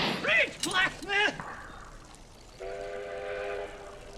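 A steam train horn sounds in a Wild West scene from Back to the Future Part III, a sustained harmonic blast that follows several loud, excited shouted exclamations.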